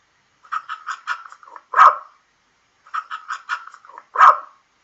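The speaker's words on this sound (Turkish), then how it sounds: "Bu bir köpek. Köpekler nasıl ses çıkarır?" A dog barks in two short bursts, each a run of quick yips ending in one louder bark, clear and close with silence between.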